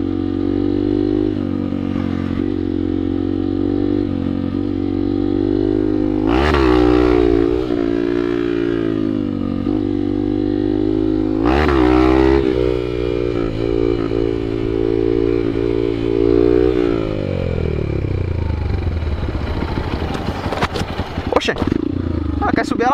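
A motorcycle engine runs steadily close by for the whole stretch, with a couple of sharp revs and a shifting tone near the end; speech is faint or absent.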